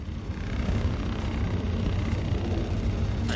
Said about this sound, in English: I hear drones.